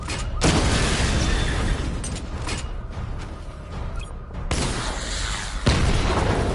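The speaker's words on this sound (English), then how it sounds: "Missile barrage level 1 ready." Heavy booming blasts from a missile barrage in Batman: Arkham Knight arrive in loud, rumbling bursts, a big hit at the start and another surge near the end, with mechanical creaks between.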